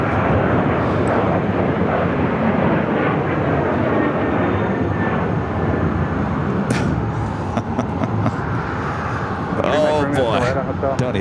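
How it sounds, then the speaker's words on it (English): United Airlines Boeing 737-900ER jet airliner at Phoenix airport, a loud steady broadband jet roar filling the whole stretch, with people talking over it. "United Airlines flight 2398 heading to Dulles, 737-900 ER up next"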